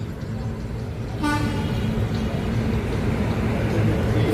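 A train locomotive horn sounds at Thiruvananthapuram Central railway station, a loud, sustained toot that rises out of a constant rumble of station and engine noise and holds steady.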